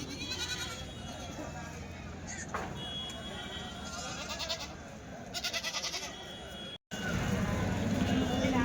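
Goats bleat repeatedly amid a noisy outdoor crowd at a weekly goat market in Kadiri, with people talking and haggling over the animal calls.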